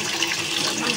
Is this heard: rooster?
no